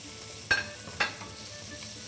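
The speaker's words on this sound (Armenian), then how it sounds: "Ինչ միսն ու սոխը տապակվում են" Meat and onion fry in a pan with a soft steady sizzle, broken by two sharp clanks of a utensil against the pan close together near the start.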